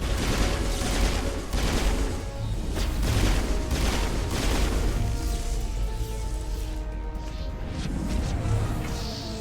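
Dense gunfire during a Mass Effect battle, continuous rattling volleys and crashing impacts for several seconds, loud and close, with sniper fire mixed into the chaotic burst of shots.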